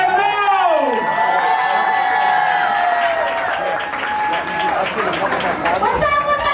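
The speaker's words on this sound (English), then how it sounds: "start clapping for your first comedian, Sofia Negro!" Audience at a comedy roast in a garden venue claps and cheers loudly throughout, with shouts and whoops, while an amplified announcer's voice rings over the crowd.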